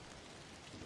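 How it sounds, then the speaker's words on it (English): Light rain falls outside a window, a steady soft hiss of drops on the glass, faint and continuous with no voices. "Outside your window, rain has started to fall."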